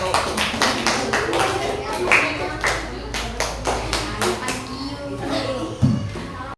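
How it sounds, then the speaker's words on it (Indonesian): Small classroom group clapping for a student team after a presentation, a loose run of about a dozen sharp, close hand claps that thins out, with a voice speaking briefly under it near the end. "Tepuk tangan untuk kelompok 1."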